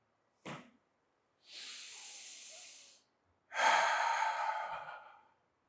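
Breathing during a chair yoga breathing exercise: a short sharp inhale, then two long, steady, airy exhales of about one and a half seconds each, close to the microphone with silence between, no voices.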